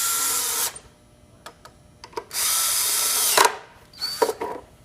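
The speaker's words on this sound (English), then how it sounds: "If you are fortunate enough to have a cordless screwdriver, by all means, speed up the" A cordless screwdriver drives threaded screws into a pole, three sustained whirring bursts of about a second or more each, separated by brief clicks and handling noises, close and fairly loud with no talk.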